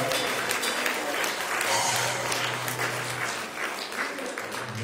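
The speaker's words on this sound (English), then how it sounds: "Can we clap our hands for the choir and the good music?" A church congregation claps for the choir after prayer, a dense steady wash of applause filling the room for several seconds with a low hum underneath.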